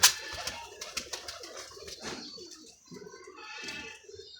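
Sialkoti pigeons in a home loft coo in rolling, throaty bursts, close and clear, with brief pauses between calls.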